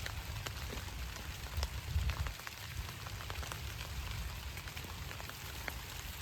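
Rain falls over a guava orchard of Golden 8 year-round guava trees, a soft, even patter of drops on leaves and surfaces that carries on faintly at a distance without any voices.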